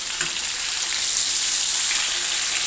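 Swiss steak frying in a pan, a steady loud sizzle with a constant hiss and faint pops, close up with no talk.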